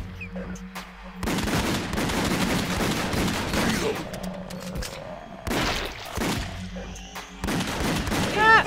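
Rapid bursts of gunfire from the video game The House of the Dead: Overkill crackle in dense, repeated volleys, loud and close, broken by short pauses.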